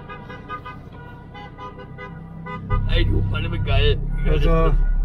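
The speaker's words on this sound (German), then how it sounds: "die Autos da links, weiß nicht, ob ihr das gehört habt, die haben jetzt mit uns mitgehupt" Car horns from passing traffic honk alongside a road convoy of vehicles, loud and repeated toots in the second half over engine rumble, with people talking inside the vehicle.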